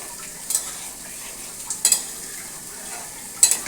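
A spoon stirs ghee through a pointed gourd and prawn curry in a pan with the gas switched off. Faint scraping comes in three light clinks over a low, steady background.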